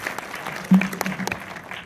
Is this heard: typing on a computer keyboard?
no